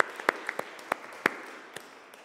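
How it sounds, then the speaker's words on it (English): A church congregation claps for visiting guests, a sparse scatter of distinct hand claps at irregular intervals over a quiet room, thinning out toward the end. "give them a bit of a round of applause and a wave"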